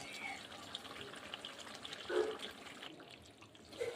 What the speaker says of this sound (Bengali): এখন আমি জলটা দিয়ে দিই